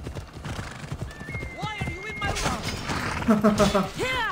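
A horse in Assassin's Creed Odyssey neighs and whinnies several times over rapid clip-clopping hooves amid combat noise, with people talking and laughing over it.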